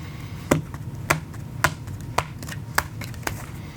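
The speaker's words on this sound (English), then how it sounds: "Let's do a faro shuffle and some cuts." A handful of sharp, papery playing-card snaps at a steady pace, about seven crisp faro-shuffle riffles and cuts over a low background hum.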